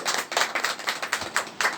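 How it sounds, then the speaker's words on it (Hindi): Hands clapping for the guests at a Hindi-speaking gathering, a small group giving a short round of fairly close, steady rhythmic claps, loud and uneven, with no talking. "एक बार तालियां हो जाए सभी मेहमानों के लिए।"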